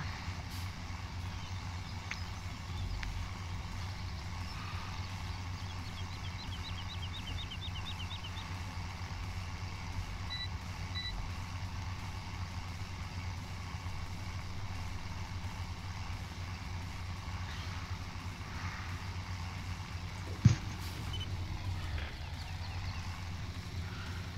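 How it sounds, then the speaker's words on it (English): A small tractor engine in the farming video game Farming Simulator 17 drones steadily at low pitch throughout, a constant putt-putt idle with a single sharp knock near the end. "Got a little putt-putt tractor."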